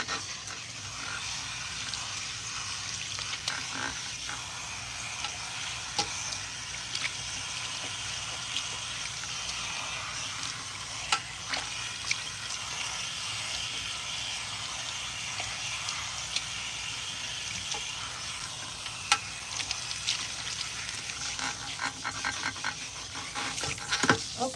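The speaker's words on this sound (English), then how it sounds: "we're gonna wet her down, making sure that we're wetting her down thoroughly, rinsing out any excess product" Running water streams steadily through a client's relaxed hair at a salon shampoo bowl, a soft continuous broadband rush lasting throughout with small splashes and handling clicks, no talking.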